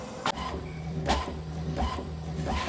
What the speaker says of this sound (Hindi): finally the printer is working